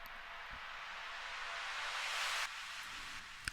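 A riser effect built from a sound within a melodic techno track: a broad noisy swell that builds steadily for about two and a half seconds, then drops back to a quieter wash with a couple of short clicks near the end.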